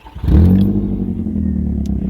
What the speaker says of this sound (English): the exhaust is a little bit noisy. Now let me show you what that sounds like.